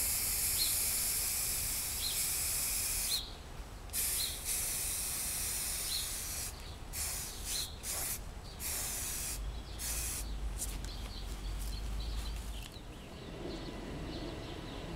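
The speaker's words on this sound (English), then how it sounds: "we wound up getting two nice wet coats of primer on there" Spray gun or aerosol applying wet coats of primer to Kawasaki motorcycle wheels, a steady broad hiss running almost continuously with several brief pauses between passes, fairly close and loud with no talking.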